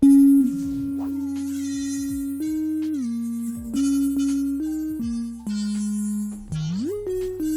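A Serum synthesizer lead plays a sustained melodic line of gliding, pitch-bending tones through the Reverb filter, with bright high overtones, alone and fairly loud.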